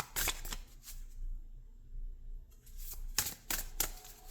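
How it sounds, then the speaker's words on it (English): Oracle cards being shuffled by hand: quick, crisp riffling bursts at the start, a quiet pause, then several more brisk flutters close by, with no talk over them. "Let's pull a couple more cards"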